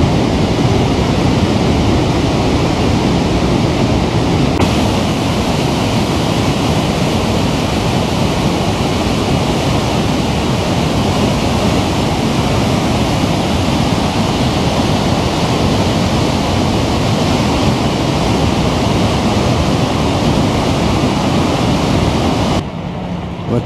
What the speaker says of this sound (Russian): Вот так вот вытекает вода через донник